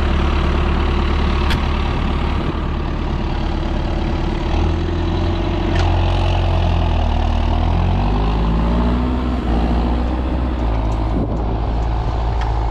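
A small tractor idles steadily, its low engine drone holding throughout with a slight shift in pitch partway through.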